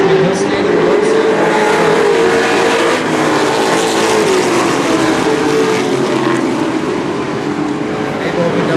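Race cars circling a track, a loud continuous roar of engines with a pitch that rises and falls as the cars pass, while a commentator talks over it.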